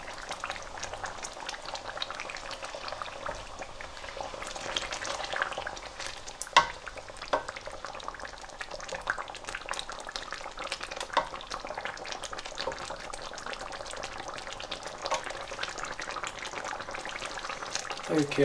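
Beef for a traditional pasanda simmers in a pot on low heat, giving a steady soft bubbling and faint liquid murmur, with an occasional clink of a stirring utensil.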